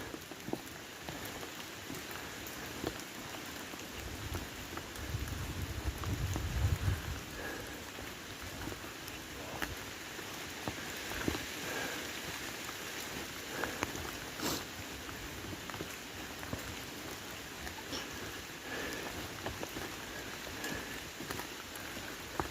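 Steady rain patters continuously on a surface outdoors on moorland, a dense hiss of drops with a brief low rumble partway through; no one speaks.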